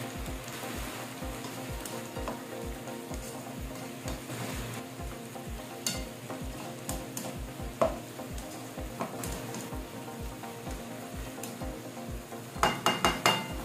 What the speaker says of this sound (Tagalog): Lulutuin na po natin yung ating pichay.